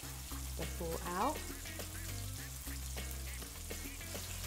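Onion and prawn, with prawn heads, are stir-fried for Pad Thai, giving a steady, close hiss of hot oil with scraping and clattering over it.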